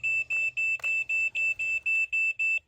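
A loud, shrill electronic low-battery alarm beep from a dozer repeats about ten times in a quick, steady rhythm, close and harsh, with no talking.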